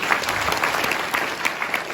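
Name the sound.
loud audience applause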